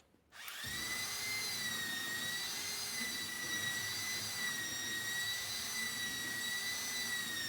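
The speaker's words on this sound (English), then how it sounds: "I used a belt sander to fair out the edges of the plywood" A belt sander starts up and runs along plywood edges on a boat build with a loud, steady, high-pitched whine, close and continuous, with no talking.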